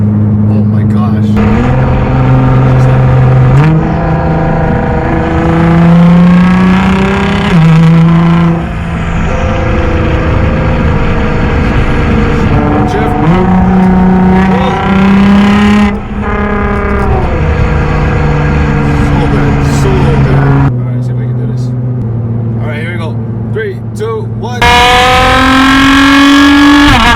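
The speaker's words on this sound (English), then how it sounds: "I love the sound of the downshift. It sounds so godly," Loud straight-piped Nissan GT-R exhaust heard from a ride along, with a roaring engine note rising and falling through repeated revs and downshifts; a person talks over it throughout.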